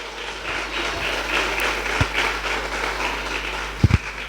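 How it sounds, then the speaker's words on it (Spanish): A church congregation claps continuously in a dense, steady patter, with a couple of louder thumps near the end. "Y esas palmas que alaban a Dios, alábelo."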